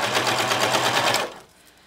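A sewing machine stitching a wave stitch runs in a fast, steady mechanical chatter close by for just over a second, then stops abruptly.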